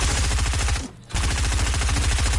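Rapid machine gun fire from a video game shooter, a dense continuous rattle of shots that breaks off briefly midway, then resumes just as loud and steady.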